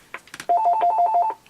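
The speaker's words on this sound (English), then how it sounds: "Sorry if my phone's going mad." A telephone rings indoors during a card-making craft session: a short burst of rapid, trilling electronic rings, close and fairly loud, preceded by a few faint knocks.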